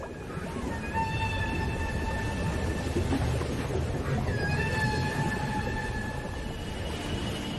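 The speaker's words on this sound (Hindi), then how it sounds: "जैसे कि हम्पबैक व्हेल की गाने की धुन जैसी लहकती ये आवाज" A humpback whale sings underwater in long, sustained tonal moans and whistles, in two drawn-out phrases over a steady wash of ocean noise.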